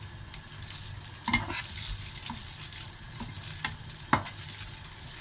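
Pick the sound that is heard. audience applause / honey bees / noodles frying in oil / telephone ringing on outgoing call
noodles frying in oil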